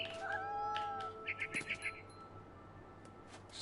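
A cat meows several times in the video game What Remains of Edith Finch, with a cluster of short, quick mews midway, fairly faint against a quiet background with some talk around them.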